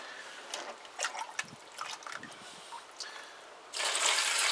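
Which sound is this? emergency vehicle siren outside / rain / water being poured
water being poured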